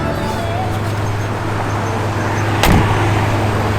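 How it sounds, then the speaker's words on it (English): Blower motor of a 1961 Chevrolet Biscayne running as a steady, broad whooshing hum with a low drone, loud and continuous from start to finish, with a brief click near the end. "Blower motor does work."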